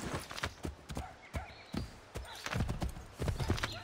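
Hooves clop in an irregular patter on hard ground, mixed with a horse's snort and whinny, moderately close, in the video game Assassin's Creed 3.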